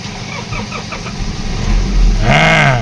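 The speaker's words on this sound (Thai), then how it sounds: "ฟังเสียงเครื่องยนต์กันหน่อยนะครับว่าเป็นยังไง จะสตาร์ทติดง่ายไหมนะครับ" A 2006 Nissan Frontier King Cab pickup with a five-speed manual gearbox cranks briefly and catches, its engine starting and settling into a steady, loud idle close by.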